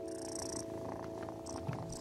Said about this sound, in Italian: Sembrano fusa!